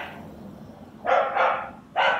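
A dog barks three times close by indoors, short loud woofs in quick succession after a quiet background, with no talking over them.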